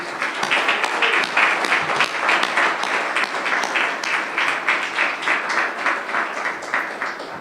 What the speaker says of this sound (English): So I'd like to give a round of applause for all the staff for Columbus City Schools.